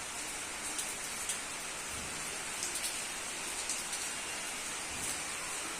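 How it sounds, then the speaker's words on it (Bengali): Steady rain falls outside a home in a continuous, even hiss with faint scattered drop patters, moderately distant and unbroken by voices. "কিন্তু এখন দেখো কীরকম বৃষ্টি পড়ছে"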